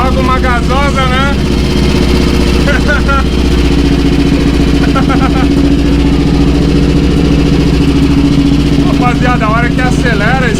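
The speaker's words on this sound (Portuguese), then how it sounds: "a hora que acelera esse carburador assim, ó, carburador aberto, ele lança a gasolina pra frente" Honda Titan 353cc motorcycle with a stainless exhaust and open carburetor, its engine running loud and steady throughout with revving surges, close by, while someone talks over it.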